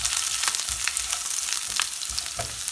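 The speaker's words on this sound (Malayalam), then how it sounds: "അതിലേക്ക് നമുക്കിനി അരിഞ്ഞു വെച്ച വെളുത്തുള്ളി ഇട്ട് കൊടുക്കാം." Chopped garlic fries in hot oil with spluttering mustard seeds and curry leaves for Kerala koottu curry, giving a close, steady sizzle with frequent sharp crackles and pops and no voices.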